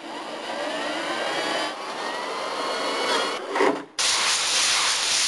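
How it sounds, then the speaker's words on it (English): Continuous close rasping of a power sander working an aircraft part, a steady abrasive whine that briefly cuts out before resuming. "although I completely hate sanding down this beast"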